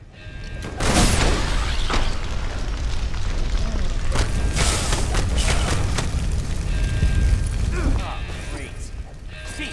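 Heavy booming cannon blasts and rumbling explosions erupt repeatedly amid mechanical clanking and a dense, chaotic soundtrack in the video game LEGO Marvel's Avengers, loud and continuous throughout.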